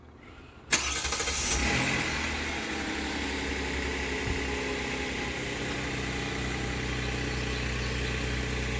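Remote start of a 2022 Kia Telluride SX: after a short quiet pause the engine cranks and catches with a sharp burst, revs briefly, then settles into a steady low idle hum.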